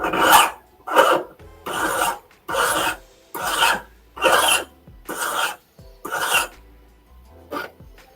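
Hand file rasping across a metal jewelry piece at a custom design bench, nine close, loud strokes in a steady rhythm with short pauses between, no talking.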